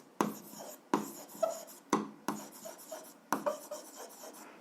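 Pen writing out notes for a 7th-grade algebra exercise, with quick scratchy strokes in several bursts near the mic and no talking.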